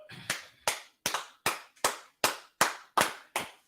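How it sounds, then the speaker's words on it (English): Nine sharp hand claps in a slow, even rhythm, each crisp and close, with brief silence between them. "clap it up"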